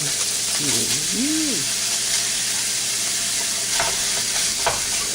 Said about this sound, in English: And then we'll add our ground beef.